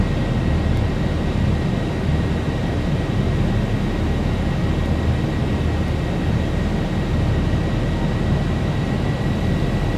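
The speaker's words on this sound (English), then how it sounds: "So we'll just give a little bit more throttle." Boeing 737 jet engines throttling up in the X-Plane 11 flight simulator, a loud, steady, unbroken roar with a faint high whine running throughout.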